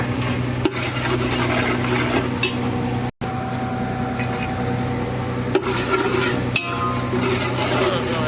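Onions and fenugreek fry in a pan with a continuous sizzle, while a utensil stirs and scrapes through them in uneven strokes.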